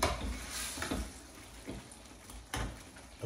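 Thick chicken bhuna sauce scraped around a pan, a few rough scraping strokes over a low sizzle, close and fairly quiet.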